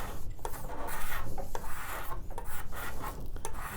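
A card scraper is pulled along the edges of a wooden table, making close, continuous dry rasping strokes with no voices.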